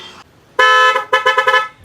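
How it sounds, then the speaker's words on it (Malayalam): A loud Osram aftermarket car horn sounds alone, one long blast followed by several quick short toots in a rapid burst. "ഓസ്റാമിൻ്റെ ഹോൺ നമ്മൾ ഫിറ്റ് ചെയ്തിട്ടുണ്ട്"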